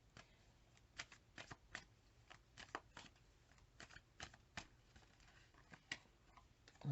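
Tarot cards are shuffled and handled up close, a quiet run of irregular crisp riffling snaps and soft slides with no talking.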